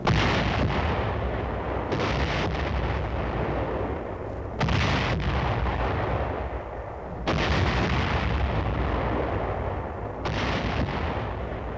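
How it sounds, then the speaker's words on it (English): US Army 24th Division artillery firing on Hill 584 during the Korean War, heavy booming blasts roughly every two to three seconds over a loud rumbling background, no voices. "24th Division Artillery prepares to open fire on Hill 584"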